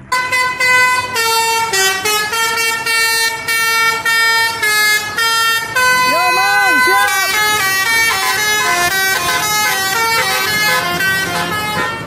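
A Doa Ibu bus passing on the road, its loud multi-tone musical horn playing a long melodic sequence of honks, with engine noise underneath and a voice briefly heard.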